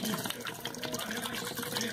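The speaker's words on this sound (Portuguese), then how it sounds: "É só completar com água" Water poured into a container to top up a detox drink, a continuous close splashing, gurgling flow lasting the whole two seconds with a faint voice underneath.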